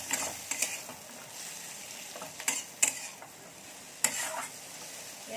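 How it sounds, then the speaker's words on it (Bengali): Green chillies, cashews and raisins stirred in a frying pan, with a low steady sizzle broken by a few sharp scraping stirs and light clinks of the spoon against the pan. "একটা কাজু বাদাম, একটা কিশমিশ, এগুলো খুব ভালো করে আগে একটু নেড়ে নেব।"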